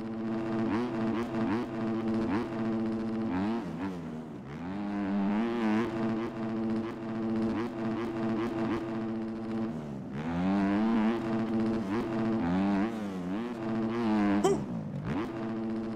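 New Yamaha dirt bike in the MX Bikes racing game, its engine buzzing and revving hard with repeated rising and falling pitch sweeps as it shifts and accelerates, loud and continuous throughout.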